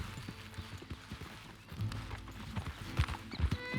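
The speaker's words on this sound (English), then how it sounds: "Let's get on my beautiful horse." Horse hooves clip-clopping at a quick gait in Red Dead Redemption 2, rhythmic thuds growing busier toward the end, moderately close over a low ambient background.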